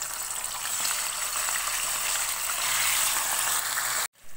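Bone-in chicken sizzles loudly and steadily in hot oil in a karahi over a low flame, a dense continuous hiss that stops abruptly just before the end.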